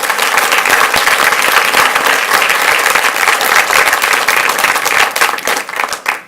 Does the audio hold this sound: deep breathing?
no